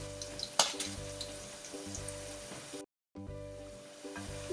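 Onion and potato pakoras sizzle steadily in hot oil, a close, continuous frying hiss with small pops and a brief silent break near the end.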